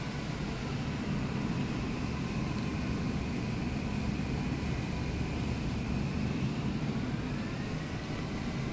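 Jet engines roaring with thrust reversers deployed on an airliner in Microsoft Flight Simulator 2024, a steady, loud broadband rumble with low drone and airy hiss running unbroken throughout.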